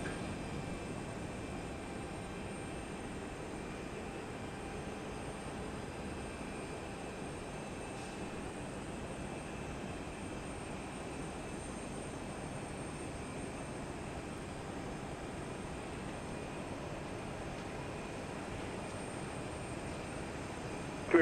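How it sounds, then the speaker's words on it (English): Steady broadband roar of an airliner arriving at Houston Intercontinental (IAH) on a flight from Reagan National, a constant mid-level engine rush holding evenly throughout with no voices. "yet another arrival. Flight 1450 from Reagan National Airport in Washington."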